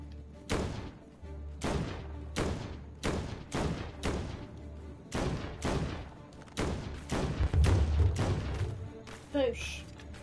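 Agent pistol gunfire in a Lego video game: a steady run of about a dozen sharp, punchy shots at an even rhythm, close and loud, with low game music or rumble beneath and a brief chime near the end.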